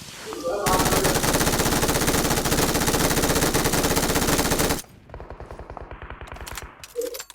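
Rapid automatic gunfire from a BGMI mobile battle-royale fight rattles loud and continuous for nearly five seconds, then gives way to quieter scattered shots and game effects.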